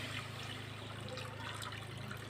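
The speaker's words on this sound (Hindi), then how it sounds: "तो यहाँ पे मैं 1 गिलास पानी इसमें शामिल कर देती हूँ" A glass of water is poured into frying masala for a fish curry in a home kitchen, giving a steady, even rush of liquid with a low hum beneath it.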